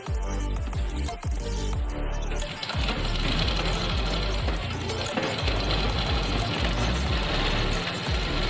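Sewing machine stitching fabric for a full-flared gharara, close up: bursts of rapid mechanical needle clatter, short runs early then a longer continuous stitching run, with a brief pause in between.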